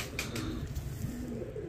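Pigeons at a breeder's loft coo in low, soft, repeated murmurs under a steady background hum, with a couple of faint higher rustles.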